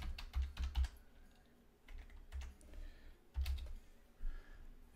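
Typing on a computer keyboard to enter a code, with quick bursts of clustered keystrokes separated by short pauses, close and fairly quiet, with no talking.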